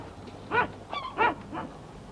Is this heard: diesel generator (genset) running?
no